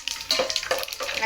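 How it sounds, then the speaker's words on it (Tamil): Whole spices — cloves, cinnamon, star anise, fennel and bay leaf — sizzle in hot oil for chicken biryani, giving short bright crackling bursts with light stirring scrapes, close and moderately loud. "இப்போ நான் கிராம்பு, பட்டை, பூ, சோம்பு, பிரியாணி இலை சேர்த்துக்குவோம்."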